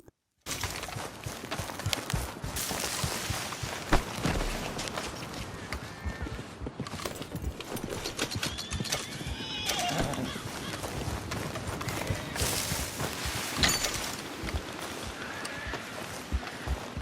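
A horse in the Red Dead Redemption video game, a steady patter of hoofbeats under continuous game sound with wind noise, fairly loud and close, and a brief higher call that may be a neigh partway through.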